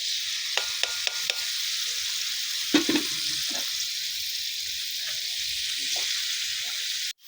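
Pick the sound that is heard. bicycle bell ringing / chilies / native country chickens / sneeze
chilies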